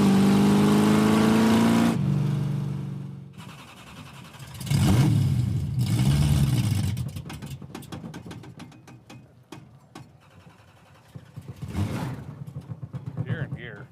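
A Dodge Coronet's engine runs at moderate volume while the car is driven, with rising and falling revs and road noise under occasional talk from the people inside.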